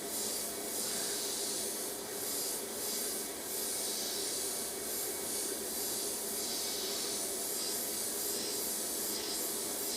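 Steady airbrush spray hisses without a break, soft and close, with faint rhythmic swells as short dagger strokes are laid down for a monochrome portrait.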